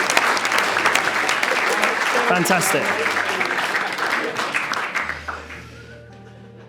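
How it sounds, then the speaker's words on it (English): Sustained applause from wedding guests filling a room, steady clapping that fades out near the end, with a brief spoken exclamation over it. "Round of applause for that, please."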